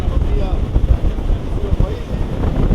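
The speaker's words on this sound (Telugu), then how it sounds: "గాలి మీకు సౌండ్ వినపడే ఉండిద్ది పాటికి" Strong wind buffets the open upper deck of a fast ferry crossing from Dar es Salaam to Zanzibar, a steady low roar with gusty rumble against the microphone throughout, with some speech-like sound tagged faintly in the mix.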